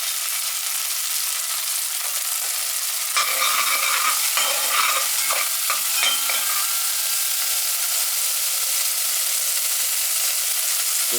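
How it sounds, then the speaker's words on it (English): Onions and garlic sizzling in hot oil in a pot for Jamaican curry mutton, a loud steady frying hiss with a short stretch of stirring scrapes in the middle. "put the onions in there. Put the garlic in here."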